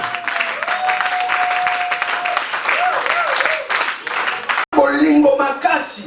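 A church congregation claps in steady, dense applause to acclaim the Lord, with a voice and sung tones carrying over it, then a brief break before louder singing and talk resume.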